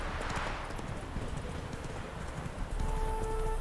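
Roach the horse in The Witcher 3 trotting with rapid, rhythmic clip-clop hoofbeats close by, steady and fairly loud, over faint ambient background.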